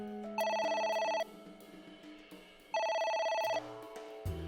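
In AI: The Somnium Files, a phone rings in two loud, bright electronic bursts with a quieter stretch of background game music between them, and no voices.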